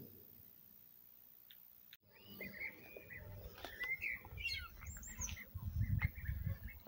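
Birds chirp and call in short, scattered bursts after a quiet start, some tweets bright and near, others fainter, over a low background rumble, outside a mosque in Trabzon in spring.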